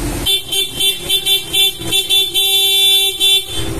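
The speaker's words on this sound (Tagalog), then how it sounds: "Ito yung stock horn ni sir." A stock horn on a Sniper 155 motorcycle sounds in a quick series of short, bright, close honks that run into one longer blast toward the end.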